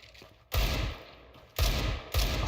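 Gunfire in Counter-Strike 2 comes as three loud, close bursts of rapid shots, each cutting in sharply after a brief quieter gap.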